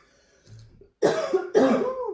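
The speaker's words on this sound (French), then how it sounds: "Je tousse un petit peu depuis 2 jours." Woman coughing twice, two sharp, loud bursts close up and about half a second apart, after a faint soft sound, with no talking.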